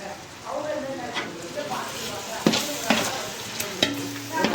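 A pot of biryani gravy is stirred after half a litre of yogurt goes in, with wet scraping and sloshing strokes over a steady sizzle and a few sharp clinks of the spoon against the rim near the end.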